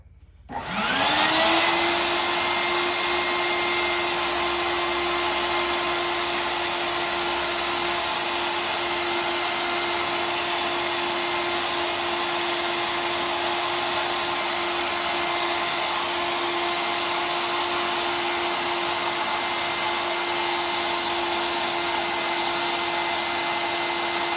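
A vacuum hose pulls debris from a STIHL chainsaw fuel cap with a loud, steady whine after a quick start-up. The suction roars on without a break for over twenty seconds, and no one speaks.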